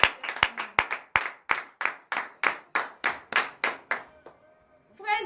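A congregation claps in a steady run of about fifteen sharp, rhythmic beats during a morning prayer service, fairly close and loud, then the clapping stops and a voice begins speaking.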